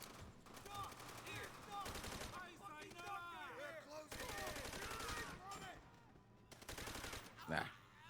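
Rapid gunfire and explosive bursts in a video game fill the scene, including a grenade blast, with loud repeated shots in clusters and a sharper impact near the end.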